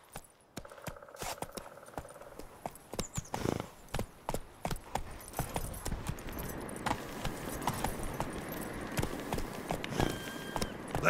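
Roach, a horse in The Witcher 3 on PS5, gallops with repeated hoof clip-clops in a steady running rhythm, tack jingling, fairly close and moderately loud, with no talking over it.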